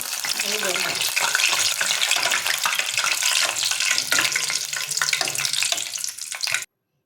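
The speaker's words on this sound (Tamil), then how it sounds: "இந்த மாதிரி எல்லாத்தையும் பொறித்து போட்டுக்கிட்டேன்" Curry leaves sizzle and crackle in hot oil while kara boondi is being made, a dense, close, steady frying hiss that cuts off abruptly near the end.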